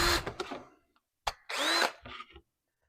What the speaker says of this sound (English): Go ahead and drill all these babies out, and then I can transfer it to the other piece.